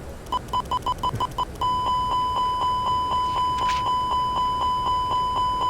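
A cockpit alarm sounds in an A320 flight simulator, a steady string of sharp evenly spaced electronic beeps that quickens and then holds a rapid repeating pulse, loud and close.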